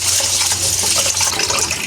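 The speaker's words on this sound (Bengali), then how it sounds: "আর এখন পোলাও চাল ধুয়ে নেব।" Water gushes and splashes continuously as pulao rice is rinsed in a kitchen, a close, loud, churning wash of liquid with small grainy rattles throughout.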